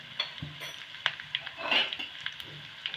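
A spoon stirs arhar dal seasoned with hing in a pot, producing faint, irregular scrapes and light metallic clinks close by in a quiet kitchen, with no talking.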